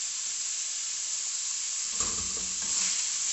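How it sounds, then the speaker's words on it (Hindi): Chopped bell pepper fries in a hot pan with a steady bright sizzle, and a spoon stirs it briefly partway through with a few soft scraping knocks. "तकरीबन 30 सेकंड के लिए हम इसको भी फ्राई करेंगे"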